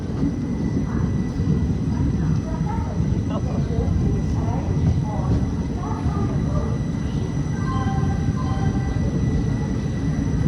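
A passenger train pulling into Durg Junction station, with a steady low rumble and rattle of the cars rolling in, and a few faint higher clanks and tones over the continuous noise.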